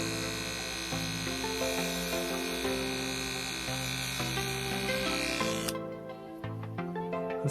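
Electric hair clippers shave a hairline during a home line-up haircut, a steady loud buzz that runs nearly unbroken, its pitch shifting slightly as the blades move, then briefly dropping toward the end before resuming, with no talk.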